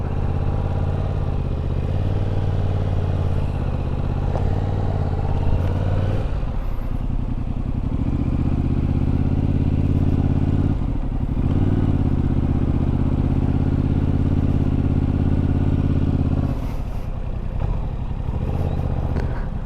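A track motorcycle ridden supermoto style roars close by, its engine note rising and falling as it revs through the corners, with a brief clattering dip in between.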